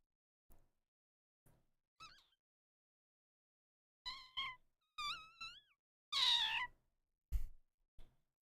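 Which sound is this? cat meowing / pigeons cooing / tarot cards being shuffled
cat meowing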